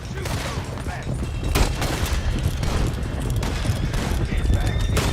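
Shootout gunfire in Red Dead Redemption 2, dense overlapping shots cracking in quick irregular bursts over a rumbling background, loud and continuous, with voices shouting in the mix.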